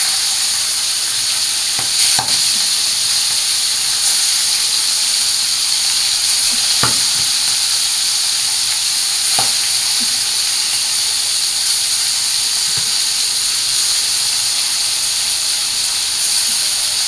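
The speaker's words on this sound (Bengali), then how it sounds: "তো আমি মাছগুলো ভাজা নিই" Shing fish (stinging catfish) fry in a wok with a steady, loud sizzle and hiss throughout, broken by a few sharp pops and stirring clicks; no speech.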